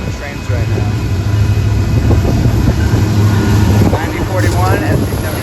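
A freight train rolls past on the Hannibal Sub at Sublette Avenue, a loud, close, continuous rumble and rattle of the railcars running the whole length, with a voice briefly heard over it.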